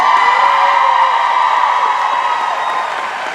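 A large fan-convention crowd applauds and cheers at a Supernatural panel, a loud, continuous roar of clapping and voices that slowly fades over a few seconds.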